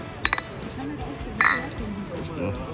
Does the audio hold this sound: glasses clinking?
yes